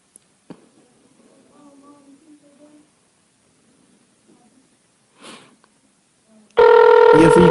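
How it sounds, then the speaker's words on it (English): A telephone call is placed: soft dialing and line clicks through near silence, then a loud, steady ringback tone rises and holds at the end. "Let me call Scooter back."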